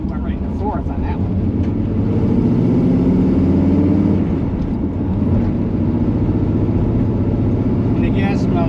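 A 1977 Corvette engine drones steadily as it pulls hard in fourth gear along back streets, a loud, continuous low rumble from inside the car, with speech over it.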